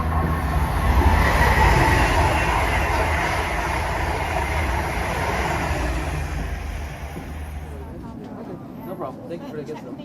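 An Amtrak NextGen Acela high-speed train rushes past a station platform with a loud, steady roar that gradually fades, leaving quieter ambient noise at the end.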